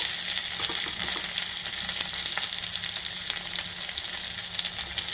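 Chopped onion, carrot, green chillies, garlic and ginger fry in hot oil, making a loud, continuous close sizzle with faint stirring scrapes throughout, and no voices.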